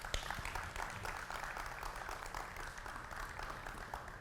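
An audience at a French-language talk event applauds guests with steady, dense clapping that stays fairly even for several seconds, heard at a moderate distance.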